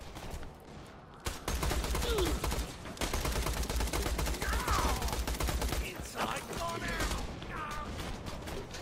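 Sustained gunfire from a first-person shooter, Borderlands: The Pre-Sequel, with rapid bursts and booming shots layered over game effects, loud and continuous, with a voice faintly beneath.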